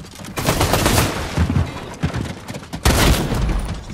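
Dense, loud gunfire from the video game Fortnite: rapid overlapping shots and booming blasts fill the whole stretch with almost no pause.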